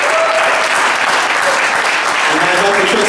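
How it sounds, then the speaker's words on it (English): A church congregation gives a loud, dense round of hand clapping in praise, with some voices mixed in through the brief burst. "Let's give God a hand clap of praise for Mr. Barfield."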